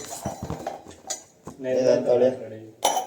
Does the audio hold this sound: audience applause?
no